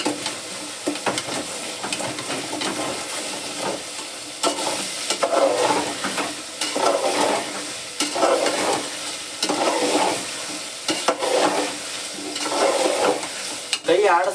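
Ginger garlic paste sizzles and fries in a pan while being stirred steadily, with repeated scraping strokes over a constant crackle, close and fairly loud, no voices.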